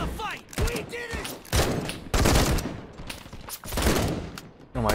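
Bursts of rapid gunfire and scattered shots from the video game Call To Arms, in an ambush firefight, come in dense clusters over game noise, with some voices mixed in.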